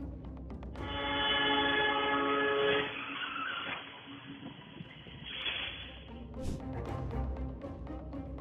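A loud, sustained train horn blares for a couple of seconds at a road crossing, then screeching and rumbling noise of a collision follows, with a brief sharp squeal near the end.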